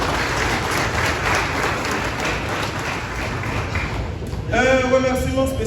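Applause from a congregation at a church mass celebrating thirty years of Haiti's national police: dense, steady clapping for several seconds, then a voice speaks over it near the end.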